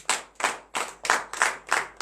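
A church congregation claps hands in unison, about six to seven sharp claps in a steady rhythm, close and loud.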